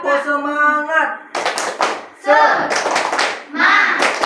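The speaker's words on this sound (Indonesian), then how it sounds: "Kalian tahu tepuk semangat? Tahu tepuk semangat? Nah, tepuk semangat." Children in a classroom perform a rhythmic clapping cheer, bursts of sharp hand claps in quick patterned groups alternating with a teacher's voice and the children chanting along.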